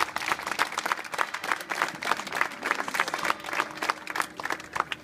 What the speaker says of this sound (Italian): chiedo di fare tutti un applauso per questo